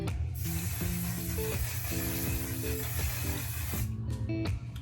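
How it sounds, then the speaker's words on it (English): A steady hiss of makeup setting spray runs through most of the stretch, with light mechanical clicks and ratcheting over a low background hum. "So I just spray about that much."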